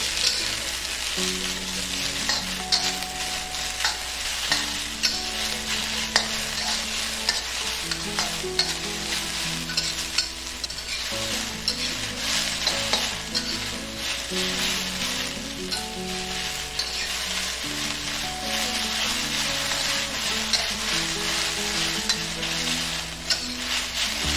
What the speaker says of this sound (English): Add onion and celery. Stir fry for 2 to 3 minutes.